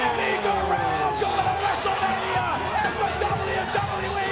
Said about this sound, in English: The crowd erupted as he finally won the big one